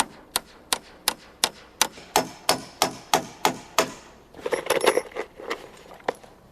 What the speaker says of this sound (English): Then we nail the rails to the posts.